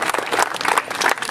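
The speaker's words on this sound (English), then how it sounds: "I wish you'd applaud soon" Audience applause and scattered clapping at a Renaissance faire juggling show, a steady mid-loud patter of many hands throughout with no talking.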